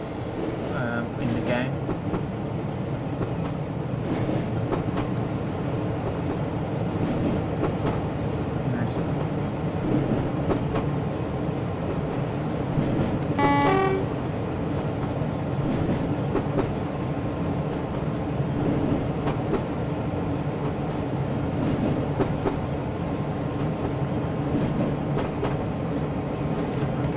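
Class 33 diesel locomotive in Train Sim World, a steady rumbling engine drone with rail running noise throughout, loud and continuous, with someone talking over it.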